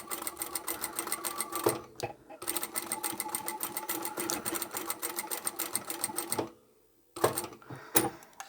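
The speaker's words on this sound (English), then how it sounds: "sew up the side, not going too close to that bar at the bottom, rotate this, and then we can sew back and forward along here" A sewing machine runs fast, stitching the side seam of a jacket in loud, rapid bursts. It pauses briefly, then stops with near silence before a short final run of stitches.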